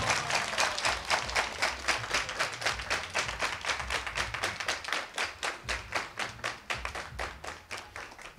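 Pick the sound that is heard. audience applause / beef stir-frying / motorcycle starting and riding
audience applause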